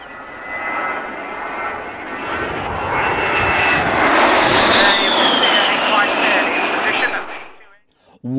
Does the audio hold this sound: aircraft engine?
yes